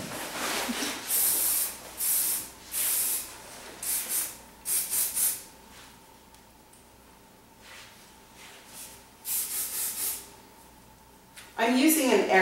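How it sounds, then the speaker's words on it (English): Several bursts of aerosol hairspray on curly hair, short hissing sprays in an uneven rhythm, close by, with a pause midway and a voice speaking briefly at the end. "She just sprays it really good with hairspray."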